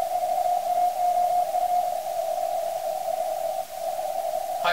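A CW signal from a Cyprus station on the 28 MHz amateur band comes through as a steady, unbroken radio tone over a hiss of static, dipping briefly once before continuing.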